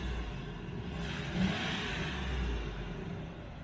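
A 3.9-litre V8 petrol off-road vehicle revs steadily during a tug-of-war pull, a continuous mid-pitched engine drone that swells slightly partway through, close and fairly loud, with no talking.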